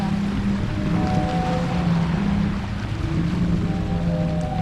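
Low, sustained organ-like tones from a sea organ in Zadar, Croatia, played by the waves, drone and shift in pitch over the constant wash of waves breaking nearby.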